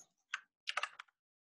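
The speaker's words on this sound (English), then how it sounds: "I'm just going to type them in" Brief bursts of typing on a computer keyboard: a single keystroke, then a quick cluster of several soft clicks, close and quiet against silence.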